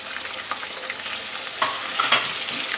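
Ginger garlic paste sizzles in hot oil with frying onions in a home kitchen pan, a steady close crackle with a few sharper pops and stirring scrapes throughout, no talking.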